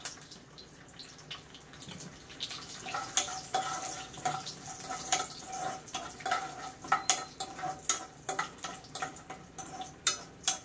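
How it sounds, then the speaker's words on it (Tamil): Mustard seeds splutter in hot sesame oil in a pan with peanuts, giving irregular sharp pops and crackles that grow louder and more frequent over a quiet sizzle, with no voices. "கடுகு படப்படான்னு பொரியணும்"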